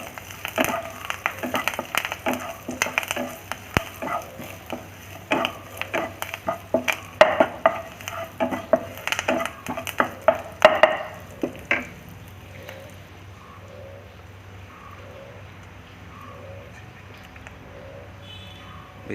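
Cumin, fennel seeds and curry leaves sizzle in hot oil in a pan as they are stirred, with repeated scraping strokes over a steady crackle for about twelve seconds, then a quieter fry with soft rhythmic ticks.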